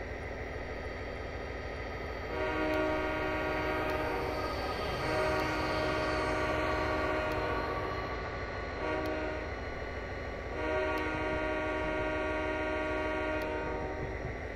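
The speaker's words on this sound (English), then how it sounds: "Train coming, 1700, mixed freight." A mixed freight train rolls past at a railroad crossing in a Castle Rock Railroad simulation, its steady loud rumble and clatter continuing throughout, with long horn blasts sounding over it.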